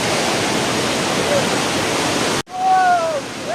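A white, foaming waterfall roars loudly and steadily in a hilly setting for about two and a half seconds. The sound then cuts off abruptly to quieter rushing water, and a brief tonal, voice-like sound follows.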